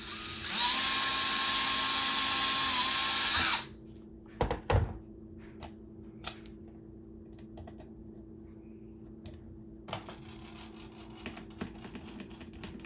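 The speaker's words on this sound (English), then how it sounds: "So I'm going to drill this out with an 1/8 inch bit and open it up to accommodate those screws." An 1/8 inch bit drilling out a hole in an exterior door for a cat door, a loud high-pitched whine for about three seconds, then a few knocks and light clicks as the work settles.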